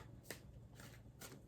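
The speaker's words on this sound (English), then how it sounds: "I am actually shuffling cards on camera" Tarot cards being shuffled by hand, three soft riffling bursts in quick succession, close and quiet over faint room hum.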